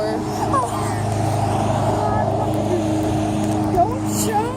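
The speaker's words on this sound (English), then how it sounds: "there's a lot of cars going through here" Cars pass by on a busy road, a loud, continuous engine and tire rumble close by with vehicles droning through, and voices talking over the traffic.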